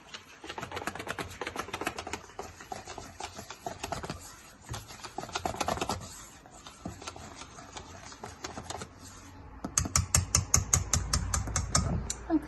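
A whisk beats egg yolk into a cream mix in a bowl, giving rapid, rhythmic clicking and tapping in close bursts with brief pauses and no talk.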